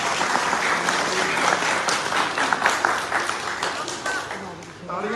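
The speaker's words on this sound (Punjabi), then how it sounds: "ਤਾੜੀਆਂ" An audience claps in a dense, continuous burst of applause at a charity society event in Ludhiana, loud and close, with voices mingling in the crowd noise.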